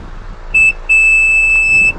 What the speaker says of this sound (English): It beeps twice, that means it confirms that it's set to its custom height.